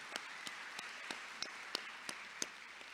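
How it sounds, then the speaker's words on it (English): Graduation audience applauding the teachers, administration and staff of the schools, a sparse, faint scatter of hand claps at a steady pace through a quiet room. "Now's the time to give a big round of applause to the teachers, administration, staff of our schools"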